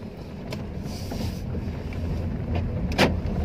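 A 2014 Honda Mobilio Type E with a manual gearbox pulls away in first gear, its low engine rumble steady and close inside the cabin, with faint clicks and a brief brighter mechanical noise near the end.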